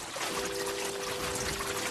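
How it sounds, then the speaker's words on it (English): Meltwater pours and trickles off the snout of a glacier in a steady, moderately faint rush of running water. "It is remarkable to think of all this water just coming down."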